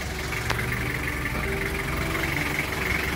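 A 1995 Suzuki Rocky F75 4x4 diesel engine idling steadily, a continuous low rumble with a faint mechanical hum, close and even throughout with no voices.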